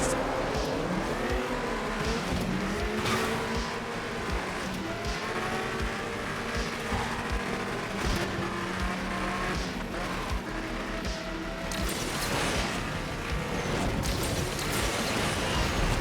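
Race cars in the Asphalt Legends Unite video game roar continuously with rising and falling engine tones, tire squeals and passing whooshes, loud and constant throughout with no talk.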